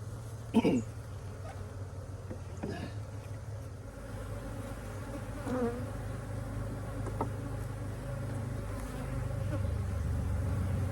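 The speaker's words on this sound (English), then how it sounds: "There's no queen, but there are a lot of bees in here." Bees buzz steadily inside an open queenless hive, a close continuous drone with a low hum and a few sharper passes of individual bees, fairly soft overall.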